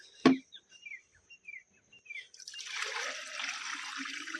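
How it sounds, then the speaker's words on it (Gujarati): About a litre of bacterial liquid solution pours into a four-litre bucket with a steady, splashing gush that begins partway through. Before it, a sharp knock and faint bird chirps break the quiet. "બસ આ 1 લીટર આમાં ડાયરેક્ટ નાખી દીધું"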